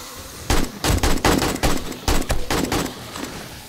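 AK rifle fire in 7 Days to Die, with about eight sharp bursts of shots in an uneven rhythm, loud and close over a quieter background.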